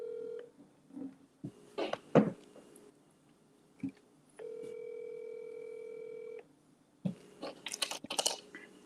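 A phone call is placed during a podcast: a dial tone sounds, then a series of keypad button beeps and clicks, followed by a second steady dial tone and more tapping.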